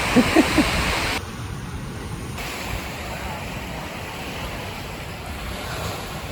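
Surf rolls in on a beach with a constant rushing wash and wind buffeting the microphone, louder at first and then settling into a steady roar.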